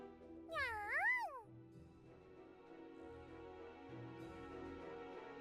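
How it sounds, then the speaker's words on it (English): A cat meows in the video game Super Neptunia RPG, two rising and falling calls close together over a steady, quiet musical background. "It seems like a nice kitty."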